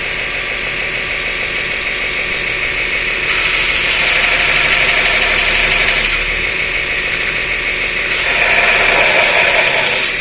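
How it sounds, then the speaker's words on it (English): A belt grinder running at roughly half speed grinds down the chamfered edges of a 20 mm socket for a Bosch-Thermador stove burner, a loud steady whir with surging pitch bands that rise and fall in several long passes, no talking. "Get the belt grinder probably going about half its normal speed."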